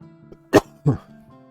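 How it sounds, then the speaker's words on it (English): Two short, sharp coughs a moment apart, close by, over a faint steady hum in the background. "I'm sorry about me coughing all the time."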